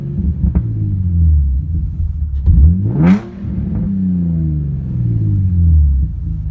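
An Infiniti G35 Coupe engine with a muffler-delete dual exhaust revs once, climbing to a loud rasping peak before dropping back to a deep, steady idle rumble, heard close up with no talk.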